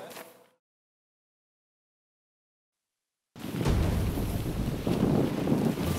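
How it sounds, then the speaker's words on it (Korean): Strong wind buffets the microphone at an outdoor campsite during tent pitching, a loud continuous roaring rush that cuts in abruptly after a few seconds of silence. "여긴 또 바람이 문제네"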